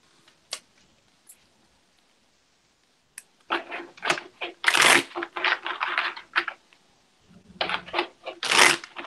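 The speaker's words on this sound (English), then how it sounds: "I should have 2 decks. So that way, there's an even shuffle." Tarot card decks are shuffled close by, a few soft riffles then sustained bursts of rapid papery flicking and bridging, with brief pauses between runs.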